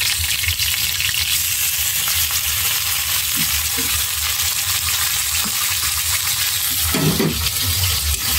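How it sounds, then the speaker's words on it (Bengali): A spice paste with garam masala sautéing in a pan, a loud, steady sizzle with occasional clinks and scraping from stirring, and no talking. "ভালো মতো মশলাটা কষিয়ে নিব।"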